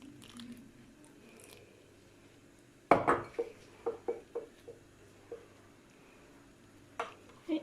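Crushed biscuits being mixed with butter in a bowl for a salted caramel cheesecake base, heard as a sudden loud scrape followed by a series of short clinks and squishy knocks, then a couple of later taps.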